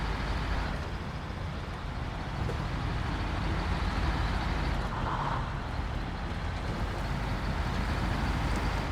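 A truck engine labors steadily in mud in the video game Snowrunner, a constant low rumbling drone that stays loud and even throughout with no talk over it.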